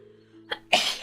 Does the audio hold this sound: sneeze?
yes